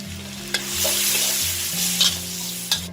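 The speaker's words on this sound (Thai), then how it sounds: "หลังจากน้ำมันร้อนค่ะหอมและกระเทียมปั่นลงไปเลยค่ะ" Blended shallots and garlic fry in hot oil for salty Chinese New Year khanom thian, a steady bright sizzle broken by a few sharp spoon scrapes and stirring knocks, with a low hum underneath.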